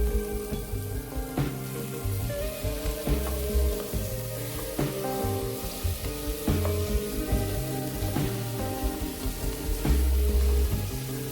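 Chopped tomatoes hit hot oil with fried garlic in a pan for Kozhikode-style chicken dum biryani and sizzle steadily and loudly, with regular scraping stirs breaking through the hiss.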